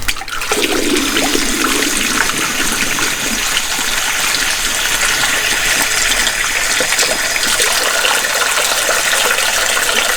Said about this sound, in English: Let's turn on the tap.